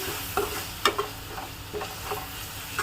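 Chopped tomato pieces cooking down in a pan for egg keema curry, a low steady sizzle with several soft spatula scrapes and taps, quiet and close.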